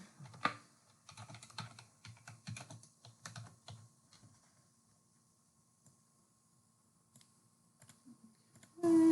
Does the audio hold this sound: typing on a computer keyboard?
yes